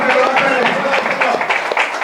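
A church congregation at a deliverance seminar in Haiti claps together in a dense, steady wash of applause, close and loud, with voices mixed in underneath.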